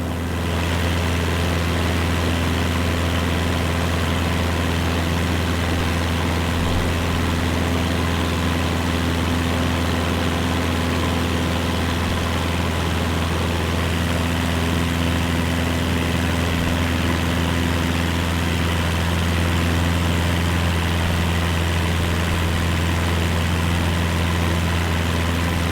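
A Cessna 172 propeller engine in Microsoft Flight Simulator 2024 hums at a steady, unchanging drone in a climb, loud and continuous with no voices.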